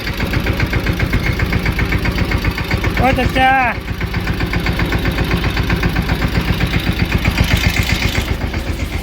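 A farm tractor engine runs steadily nearby, its low rhythmic chug continuous throughout, while a man briefly calls out over it and other voices are heard.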